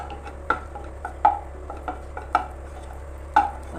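Banana pieces sauté in melted ghee, a faint sizzle under a few sharp clinks and scrapes of a utensil against the pan spaced about a second apart.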